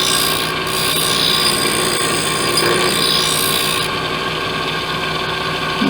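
A file rasps steadily along metal shear blades during sharpening, a close, continuous scraping with a gritty mechanical texture and no talk over it.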